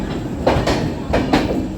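An Indian Railways Lokmanya Tilak Patliputra SF Express runs just after leaving Prayagraj Chheoki station, heard from inside the coach as a loud, steady rumble broken by rhythmic clickety-clack wheel beats on the rail joints.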